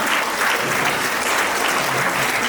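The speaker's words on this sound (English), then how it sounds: "A big round of applause." An audience claps steadily at a teachers' award ceremony, dense loud applause filling the room throughout with no voices standing out.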